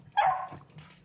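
A dog barks in a back garden at night around 1 a.m., one sharp close bark followed by a short whimpering yip, with quiet surroundings and no talking.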